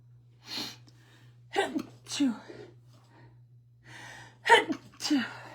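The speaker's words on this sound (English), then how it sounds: "Oh, gosh, I'm going to sneeze." A few sharp, gasping breaths build up before a forceful sneeze bursts out close to the listener, followed by another quick breathy burst.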